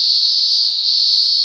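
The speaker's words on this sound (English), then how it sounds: "Is exactly the sound a cicada makes." A cicada from the 1996 PC game Blinky Bill's Ghost Cave: a loud, steady, high-pitched electric buzz that drones on without a break, heard alone.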